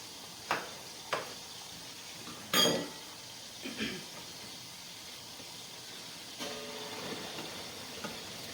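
Water sizzles faintly in a pan of onions, garlic and peppers, with a few sharp clinks of utensils against cookware early on and a soft steady hiss building near the end.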